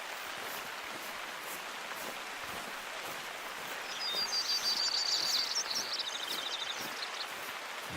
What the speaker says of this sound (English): Here comes the rain